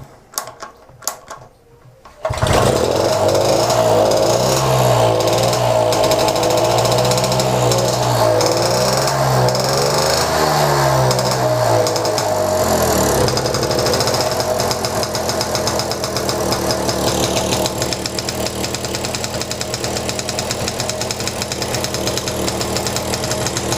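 A hard-compression engine on fuel fires up after a couple of seconds of rough, uneven cranking, then settles into a loud, steady, slightly fast idle that runs on without a break. Nobody speaks.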